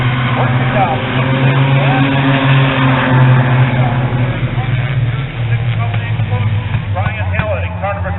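Six-cylinder Super 6 race cars roar around the oval at Spencer Speedway during a heat race, a steady loud engine drone with rising and falling pitch as cars pass, while an announcer talks over it throughout.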